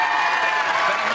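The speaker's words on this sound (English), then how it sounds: "Alfie Hewett acknowledging the generous applause he's receiving here from the fans on court 14" Steady applause rises from the crowd at Wimbledon's Court 14 after a tennis match point, a dense, even patter of clapping that fills the whole moment with no break.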